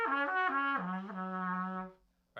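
Low notes on a wind instrument played poorly, a wavering tone that slips between pitches and settles onto a lower partial, one sustained phrase about two seconds long before cutting off.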